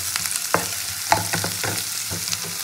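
A whole onion fries in a pan with a bright steady sizzle, broken by several quick spatula scrapes and taps against the metal, close and without talk.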